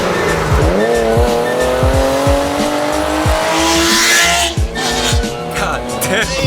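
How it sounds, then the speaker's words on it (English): A loud Porsche fitted with an aftermarket exhaust roars close by, revving hard with rising engine pitch and sharp tire squeals, the engine blaring continuously throughout. "This car's loud as fuck."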